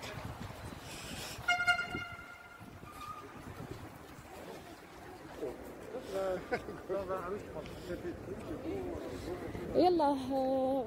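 A metro train rumbles steadily with a couple of short horn-like tones and squealing tonal sounds, moderately loud, while people talk throughout.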